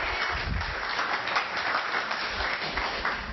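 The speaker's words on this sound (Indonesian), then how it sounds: "Beri tepuk tangan bagi dia." A church congregation applauds during a sermon, a dense, steady wash of clapping from many hands that holds at an even level for a few seconds.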